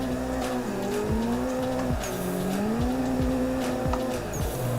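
A car drifts in the Assetto Corsa racing game, engine revving and shifting in sweeping pitch swings with tires squealing continuously, the whole passage loud and close.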